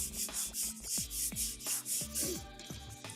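Repeated rubbing and crinkling of textured paper DVD packaging, a rhythmic series of scratchy strokes close to the microphone.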